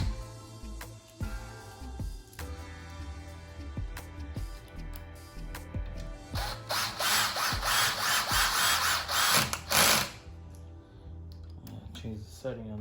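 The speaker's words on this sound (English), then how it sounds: "Powerful drill." Power drill working on a recliner sofa being taken apart, with short whirring bursts and clicks, then a longer loud grinding stretch of several seconds before it stops; a person talks intermittently.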